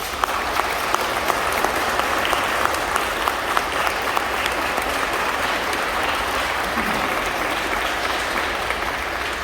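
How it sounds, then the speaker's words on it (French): A church congregation at a first communion celebration claps steadily for several seconds, a dense wash of applause echoing in a large room, even in loudness from start to finish. "Nous nous applaudissons, nous les applaudissons."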